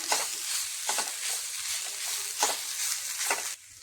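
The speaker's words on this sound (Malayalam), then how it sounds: "ഇതിലേക്ക് ചതച്ച് വച്ചിരിക്കുന്ന സോയാബീൻ ഇട്ട് കൊടുക്കാം ഇനി ഇത് നന്നായിട്ട് ഇളക്കി കൊടുക്കാം" Crushed soybean being stirred in a frying pan: a steady sizzle broken by a few rhythmic scraping strokes of the spoon, close up and fairly loud, with no voices.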